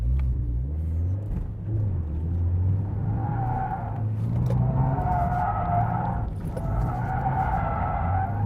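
A car drifting on a track with its tires skidding and squealing over a rumbling engine, several long loud slides rising and falling in close succession.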